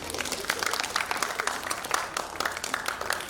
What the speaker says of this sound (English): Clap for me, please.